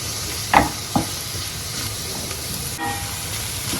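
Onions frying in a pan for bacon pasta give a steady, close sizzle throughout, with two sharp utensil scrapes or clatters near the start and a softer knock later.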